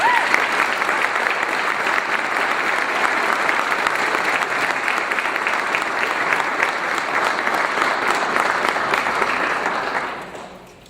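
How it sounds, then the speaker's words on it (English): Loud, sustained applause from an audience welcoming a new chief of police for the Hamlet Police Department at a press conference, dense clapping holding evenly for about ten seconds before tapering off. "Let's give him a big round of applause."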